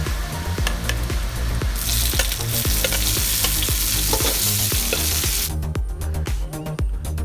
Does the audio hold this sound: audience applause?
no